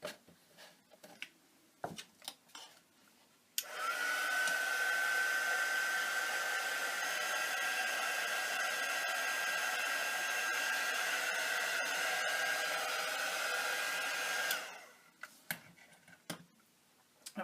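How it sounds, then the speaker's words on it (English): A hair dryer switches on and blows with a steady whirring hum for about ten seconds, drying a textured paint background, then cuts off, with light clatter before and after. "I'm going to hit this with the dryer for just a minute"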